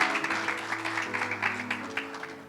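Applause from a church congregation giving praise to God during a worship service, a soft, steady patter of many hands heard at a distance in a large room.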